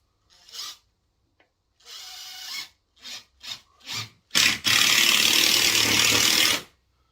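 Screws driven into slightly twisted timber studwork with a PZ2 driver, 100 mm long: a few short buzzing bursts, then one long steady whirring drive lasting a couple of seconds, close and loud, with no talk.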